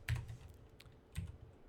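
Keystrokes on a computer keyboard, a few quick clicks in two small bursts with a pause between, close and fairly quiet with no talking.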